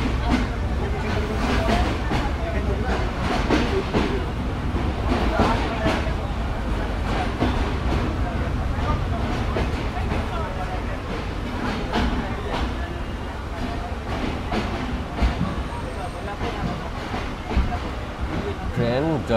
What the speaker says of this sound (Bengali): ট্রেন জয়পুরহাট স্টেশনে পুরোপুরি দাঁড়িয়ে পড়বে।